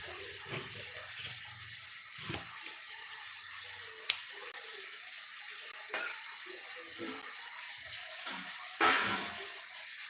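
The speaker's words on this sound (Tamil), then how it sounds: "லைட்டாக தண்ணி ஊற்றிக்கோங்க" Water is poured in a thin, hissing stream into an eggplant gravy with faint splashes, and a couple of soft clinks in between, fairly quiet and close.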